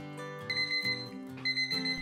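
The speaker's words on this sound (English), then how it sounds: "Now set your timer for 1 hour." A kitchen timer alarm rings during pizza-dough proofing, sounding in two short bursts of rapid, shrill beeping over a steady, soft, tonal background.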